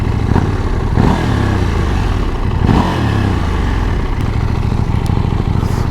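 A KTM 790 Duke motorcycle engine with stock exhaust revs up loudly a few times, the throttle blips rising and falling over a steady rumbling idle.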